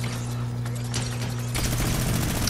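Rapid bursts of gunfire ring out in a Fortnite match, dense overlapping shots that grow louder and heavier midway, with a steady electronic hum running beneath.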